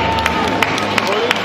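Audience applause for a group of bodybuilders lined up on stage at a Polish championship, steady clapping from a crowd with a few sharper claps standing out, continuous across the short stretch.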